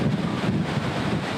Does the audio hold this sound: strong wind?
yes